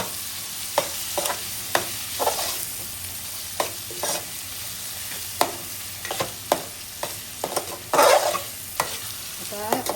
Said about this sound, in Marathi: आपल्याला चांगली याच्यामध्ये शिजून घ्यायचे कोलबी